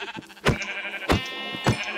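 Repeated Minecraft sheep bleats, three sharp harmonic cries roughly half a second apart, loud and close with no talking.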